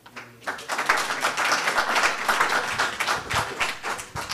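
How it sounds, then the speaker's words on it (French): An audience at a wood research conference claps for the final panel, a burst of scattered hand claps rising quickly and holding at moderate loudness, fairly close, with no talk over it. "Nous applaudissons très fort pour le dernier panel"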